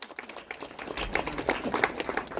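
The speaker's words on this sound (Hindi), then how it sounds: "जोरदार तालियां जगदीश जी के लिए" A short burst of audience clapping for Jagdish Tiwari, an actor and assistant director of the Garhwali film Chakravyuh, fairly close and lively, with some voices underneath.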